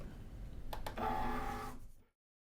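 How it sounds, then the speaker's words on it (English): A Cricut cutting machine slices a black floral paper sheet loaded on its cutting mat: a steady mechanical whir with a couple of sharp clicks, close and moderately loud, which stops abruptly near the end. "insert into my machine, and let it cut."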